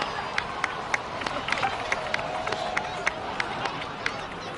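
A crowd in the video game Genshin Impact gives a round of scattered applause, with sharp individual claps over a soft murmur of voices, steady and moderately loud throughout.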